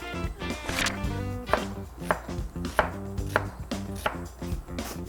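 A left-handed cook chops vegetables (squash, potato, onion, scallion) with a knife on a cutting board in a home kitchen, a close, brisk run of sharp rhythmic knocks with no talking.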